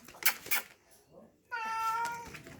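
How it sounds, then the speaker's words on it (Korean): A person makes a couple of soft sounds, then a clear, drawn-out cat meow rises close by. "야옹"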